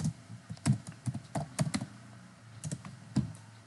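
Someone types HTML code on a computer keyboard in quick, irregular bursts of close, crisp key clicks with short pauses between them.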